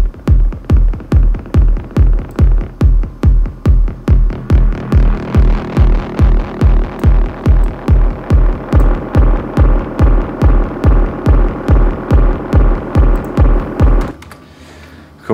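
Old Roland Space Echo tape-delay emulation plugin on its Mind Melder preset: a loud, steady stream of rapid repeating pulses, about two per second, throbbing with a dense wash of echo, then cutting off abruptly near the end.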